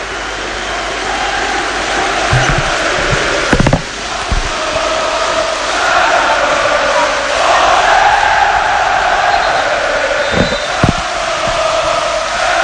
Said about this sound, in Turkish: Özellikle sahanın kenarlarında oturan seyircilerin çoğu sanki maç bitmiş gibi davranıyor.